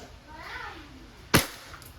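A single sharp shot from a WE Hi-Capa T-Rex gas airsoft pistol, close and loud, cracks out after a quiet stretch with a faint murmur.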